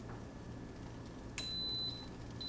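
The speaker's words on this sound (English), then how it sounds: "Those beeps tell us that the pressure cooker has accepted the reading" An Instant Pot electric pressure cooker gives a few short, high beeps after being set to pressure cook, heard faintly over a quiet kitchen background.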